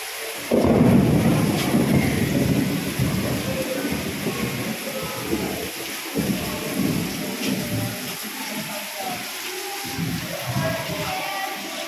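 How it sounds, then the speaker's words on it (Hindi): A thunderstorm rumbles with a long roll of thunder over steady heavy rain, the downpour hissing loudly throughout. "पूरा बिजली कड़क रहा है"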